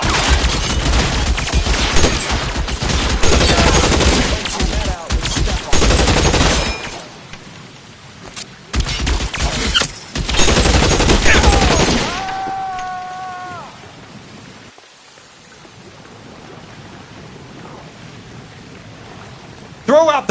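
Gunfire in L.A. Noire, dense bursts of rapid shots in two loud stretches separated by brief quieter gaps, ending in a quieter tail with a short tonal call.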